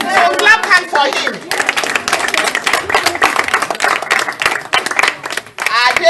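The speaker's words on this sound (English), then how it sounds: "So clap hand for him." An audience at an official gathering for a welfare department applauds an honoree, a dense, loud burst of hand clapping that runs steadily throughout, with voices mixed in beneath it.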